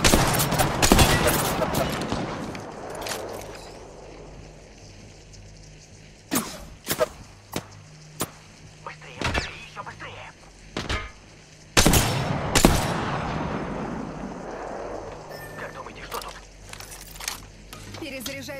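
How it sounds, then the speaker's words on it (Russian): Gunfire aimed at the player in Apex Legends arrives as a heavy opening volley, then sporadic sharp shots and short bursts, with another loud barrage midway, over a low game hum and some talking. "По мне стреляют."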